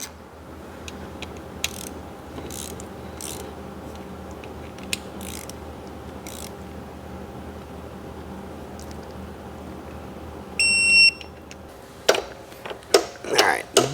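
A ratchet wrench clicks rhythmically while torquing bolts on a Mercedes E63 M156 engine during a top-end rebuild, with steady close ratcheting, a brief beeping tone near the end, then louder clanks and handling noises.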